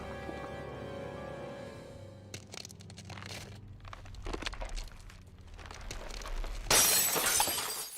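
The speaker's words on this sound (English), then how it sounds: "You broke glass." Glass shatters in the video game Tales of Arise, following a fading sustained tone, with repeated crunching and cracking bursts that end in a loud bright smash near the close.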